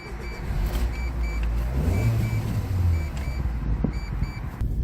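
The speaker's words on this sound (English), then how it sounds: "I think we should take this little car out for another spin" A 2012 Mitsubishi Colt 1.3 small hatchback drives along with a steady low engine hum and road rumble from inside the cabin, plus faint rattles and a few soft clicks, no talk.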